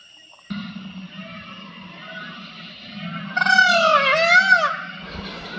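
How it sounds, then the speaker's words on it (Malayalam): Fowl calling during a morning safari in Parambikulam tiger reserve, a loud nearby rooster-like crow rising over a low steady hum, with fainter bird calls before it. "പക്ഷിമൃഗാദികളുടെ ശബ്ദം കൊണ്ട് മുഖരിതമാണിവിടം"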